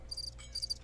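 Crickets chirping in the Chex Quest HD game, two short high trilling chirps in quick succession over a low steady background hum.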